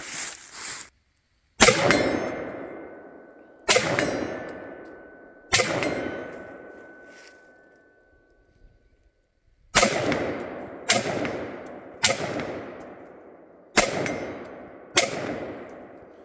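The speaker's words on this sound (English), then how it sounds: "you're hitting that big gong" Sharp metallic clangs of bullets hitting a steel gong target ring out one after another, about eight or nine hits spaced irregularly, each leaving a bright ringing tail that fades before the next.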